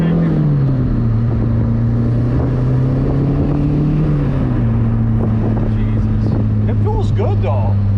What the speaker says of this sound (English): it sounds like it's taking in air good now, but it still sounds like the exhaust is restricted